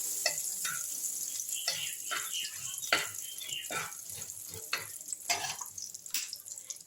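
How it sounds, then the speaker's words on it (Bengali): A spoon stirs dry chillies, cumin and nigella seeds in hot fish-frying oil, with a continuous sizzle and repeated scraping strokes, close and steady. "এইভাবে আমি একটু ফোড়নটা, ওই মাছ ভাজার তেলে একটু ফোড়নটা নাড়াচাড়া করে নিচ্ছি"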